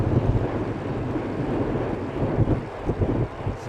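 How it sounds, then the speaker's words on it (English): Strong gusty wind buffets the microphone during a bicycle ride, producing a loud, continuous low roar with surging gusts throughout and no voices. "Strong winds."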